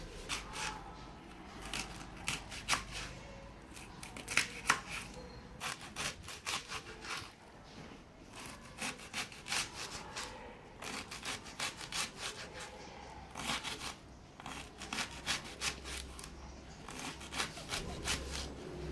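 A knife cuts through the head of a cabbage in a home kitchen while Moroccan harira is prepared, making repeated crunchy slicing and rasping strokes in uneven bursts, close and fairly loud, with no talking.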